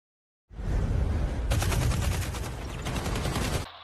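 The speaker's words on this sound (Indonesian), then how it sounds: "Disitulah baku tembak antara pembunuh bayaran dan Ilsa terjadi." Sustained gunfire from a film, dense rapid shots with a fast rattling rhythm, loud and continuous for about three seconds before cutting off abruptly.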